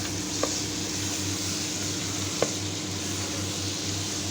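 Steady sizzling of food frying in a pan while being stirred, with a couple of faint scraping clicks, continuous and fairly close, no talking.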